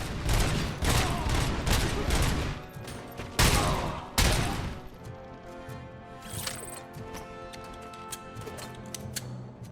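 Gunfire with fragmentation rounds in the video game RoboCop Rogue City: dense, rapid bursts of shots with a few heavier blasts, then lighter ticking and clicking as the firing thins out.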